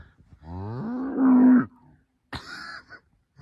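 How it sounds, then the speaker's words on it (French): A cow outside a yurt gives a long, loud moo that swells and then stops, followed by a shorter noisy sound after a pause. "J'entendais une vache, ça, depuis ma yourte, et fort, très fort"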